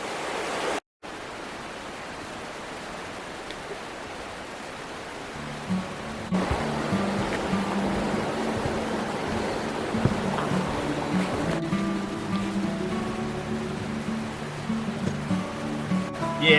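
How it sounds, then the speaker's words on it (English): Heavy river water rushing and welling up from underneath on a rainy day, a steady broadband roar that is loud and continuous throughout, with some added rumble in the second half. "There's a lot of water pumping through there."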